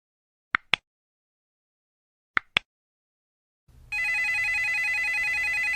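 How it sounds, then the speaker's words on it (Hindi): A mobile phone ringtone sounds after a couple of soft double clicks, then rings loud and steady as a bright electronic trill that lasts to the end. "मोबाइल की रिंगटोन की आवाज़ से मेघा की नींद टूट गई।"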